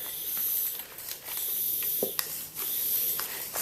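Air hissing steadily out of a punctured bicycle inner tube after a few pumps, a continuous close, moderately loud airy jet with slight fluctuations and no speech.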